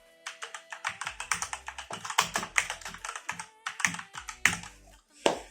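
Brisk typing on a Cosmic Byte Black Eye mechanical keyboard with brown switches: a close, steady stream of tactile key clacks in quick bursts with short pauses, ending in a couple of louder isolated strikes, no voices.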